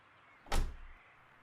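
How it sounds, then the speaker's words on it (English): A car door in an audio drama bursts open with a single sudden thunk and brief rush, fairly loud and close, then fades quickly into quiet room tone. "the door flew open."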